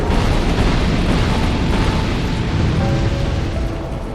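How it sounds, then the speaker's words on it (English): Fire orbs summoned by Aldia in Dark Souls II erupt in a loud, sustained roaring blast that fills the whole moment and fades slightly at the end. "Summons fire orbs."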